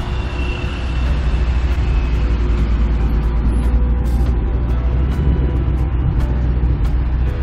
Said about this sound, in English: Ooh, Hellcat.